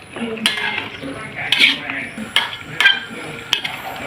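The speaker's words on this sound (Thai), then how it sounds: "แต่เราก็คนให้มะเขือเข้ากันก่อนนะครับ" A utensil stirs eggplant into a spicy country-chicken stir-fry in a pan, with repeated close metallic scrapes and clacks against the pan over a faint sizzle, and no talk.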